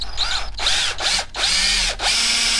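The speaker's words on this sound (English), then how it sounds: "Just use the drill." A power drill whines in three long bursts, its pitch shifting as it bites into a plastic Acerbis X Factor handguard for a Husqvarna FE 350S, with brief pauses between runs.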